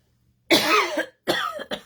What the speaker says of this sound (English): bothered by that stupid cough